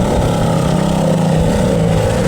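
An INGCO 750-watt power tool motor runs after repair with a steady, loud whirring hum and a slight rough edge, sustained without pause for a couple of seconds, and no voices.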